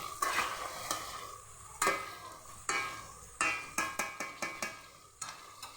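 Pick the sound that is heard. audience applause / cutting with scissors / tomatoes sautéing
tomatoes sautéing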